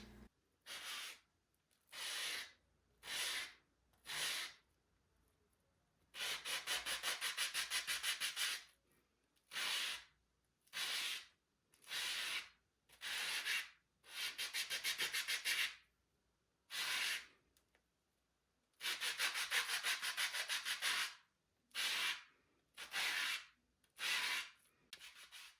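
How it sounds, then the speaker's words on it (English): A sanding block smooths the jagged edges of a cast epoxy resin frog skeleton specimen, giving close scratchy rasping in repeated bursts, some short strokes and some longer stretches, separated by quiet gaps. "I'm using my sanding block at an angle so I don't scratch up the surface"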